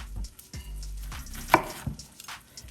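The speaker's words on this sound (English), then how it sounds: "And we're going to keep on cutting our veggies." A knife chops sweet onion and other vegetables on a cutting board, a handful of distinct close thuds spaced irregularly, with a faint kitchen background and no talking.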